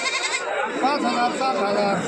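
Goats bleat in wavering, nasal calls amid a busy crowd at a goat market in Talegaon Dhamdhere, India, with people talking continuously underneath.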